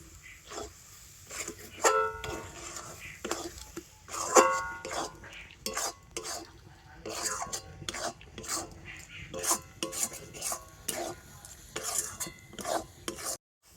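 Ripe mango pulp mixture with a pinch of salt is stirred in a pan, giving irregular scraping and knocking strokes of a spoon against metal, fairly close, with short clattery bursts.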